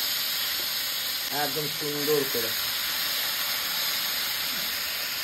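Fish frying in hot oil gives off a steady, dense sizzle and hiss that runs through the whole stretch, with a voice speaking briefly over it near the start.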